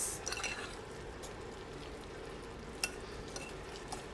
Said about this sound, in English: Once the 30 seconds are up, go ahead and give it a good mix.